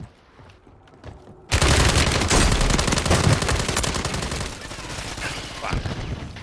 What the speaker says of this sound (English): They're trying to shoot me, so you should be able to get him.